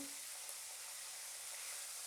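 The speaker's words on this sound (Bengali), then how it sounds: "আমি তিনটে তিনটে করেই ভেজে নেব" Bhola fish pieces frying in hot oil, a few at a time, giving a steady close sizzle and crackle that holds level throughout with no voices.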